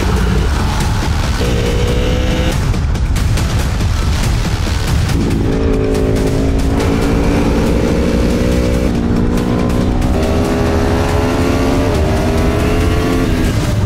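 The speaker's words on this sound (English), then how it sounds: "We are here at Sonoma Raceway." Race cars at Sonoma Raceway, engines roaring loud and continuous with rising and shifting revs as several cars drive past at close range.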